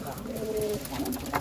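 Pigeons cooing in an indoor pet room coop, soft repeated low coos close by, with a brief higher bird call near the end.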